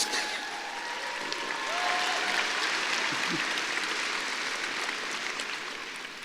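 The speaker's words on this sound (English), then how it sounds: "can we clap for them as well?" A graduation ceremony audience applauds in a steady, moderately distant wash of clapping that holds evenly throughout, with faint tonal traces in the background.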